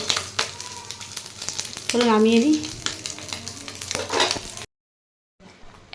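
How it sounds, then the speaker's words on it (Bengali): Fish sizzling as it fries in a pan, a steady crackling hiss through most of the stretch, with a voice talking over it and a short silence near the end. "এখন আমি মাছটা তাড়াতাড়ি করে ধুয়ে মাছটা তাড়াতাড়ি করে ভাজা করি"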